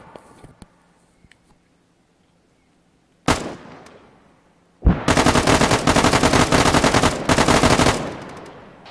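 Arma 3 video game gunfire: a single loud shot with a decaying echo, then a long sustained burst of rapid automatic fire with brief gaps, loud and close with no talk over it.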